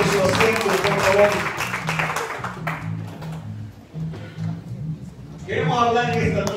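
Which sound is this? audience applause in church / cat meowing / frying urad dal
audience applause in church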